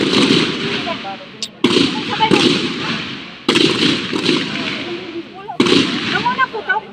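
Four sharp, loud firecracker bursts at roughly even intervals, each with a crackling decay, with voices chattering between them.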